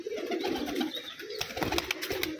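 A Kasuri pigeon coos nearby, low throaty murmurs rolling on and off over a few seconds, with some rustling and scuffing in the background.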